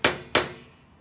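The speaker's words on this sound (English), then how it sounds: "we'll hammer it in a little bit more." Two sharp hammer strikes, evenly spaced about a third of a second apart, tapping a part into a Westclox Baby Ben Style 8 alarm clock during re-assembly; close and crisp, each ringing briefly before fading.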